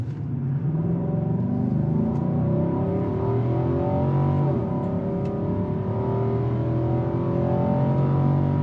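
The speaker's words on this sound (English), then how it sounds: "0 to 60 flat foot, 3, 2, 1," A 2021 Infiniti QX80 SUV pulls hard at full throttle from 0 to 60, a heavy, steady engine drone rising in pitch as it climbs through gears, loud and continuous from inside the cabin with no speech.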